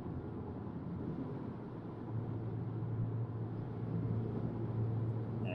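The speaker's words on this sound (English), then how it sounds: "And I apologize for the wind noise." Inside a car driving a highway at night, a steady low rumbling drone of wind and road noise fills the cabin and grows slightly louder over a few seconds, with a vibrating roof rack adding to the buffeting. No one speaks.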